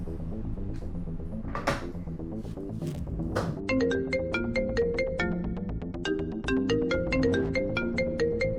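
Phone ringtone playing a repeated bright melodic chime pattern, loud and close, after a few bumps and knocks of handling, with no talk over it.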